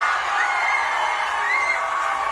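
A large crowd of about 4,000 students cheers and whoops at a rally, a steady, dense roar of voices held at even loudness throughout.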